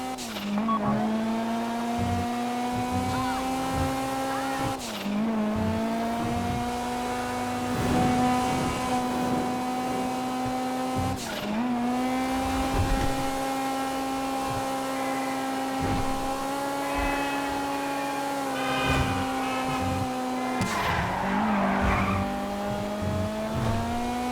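Car engine droning steadily in GTA V as the vehicle drives, with repeated tyre squeals and skids breaking in every few seconds, loud and continuous with no talking.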